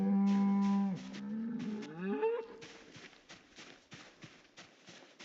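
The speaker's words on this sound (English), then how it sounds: "Man, these cattle are noisy." Cattle in a video game moo loudly near a lake, a long low bellow followed by a rising second call, then footsteps or hoof clatter in the following seconds.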